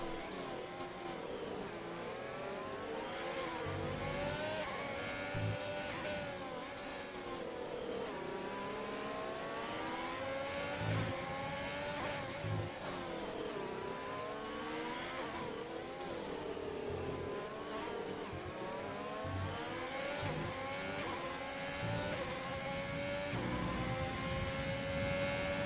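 Formula 1 racing cars, including a Mercedes, roar past one after another, their high engines rising and falling in pitch with constant loud whine throughout.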